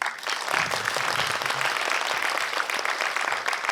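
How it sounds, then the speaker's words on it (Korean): A film screening audience at the Busan International Film Festival Q&A claps steadily. Dense, even applause fills the room from start to finish, with a faint murmur of voices underneath. "네, 박수가 조금씩 나오고 있습니다."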